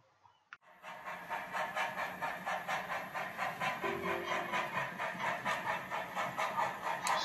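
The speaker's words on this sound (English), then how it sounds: "here we have a train load of coal going between Mottram and Shotwick, so it's got quite a journey ahead" A coal freight train travelling from Mottram to Shotwick rolls by, its wagons producing a steady, evenly spaced clickety-clack rhythm of wheels over rail joints that builds after a quiet start and stays moderately loud.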